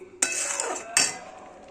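Carrot halwa with sugar is stirred in a pan, giving two distinct metallic scrapes of the spoon against the pan, close and moderately loud, with a short pause between.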